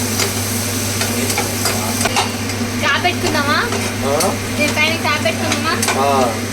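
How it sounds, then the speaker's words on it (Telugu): Onion, green chili and tomato frying in a pan until browned, a loud steady sizzle with repeated scraping stirs, accompanied by a low constant hum and a few brief squeaky sweeps. "ఇది చక్కగా ద్వారగా బ్రౌన్ కలర్ వచ్చే వరకు వేయించుకుందాం"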